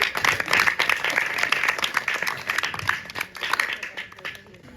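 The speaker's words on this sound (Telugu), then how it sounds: "క్లాప్స్ కొట్టండి అందరూ." An audience at a semi-Christmas church gathering claps in a dense, uneven burst of applause close by, with voices mixed in and the clapping thinning toward the end.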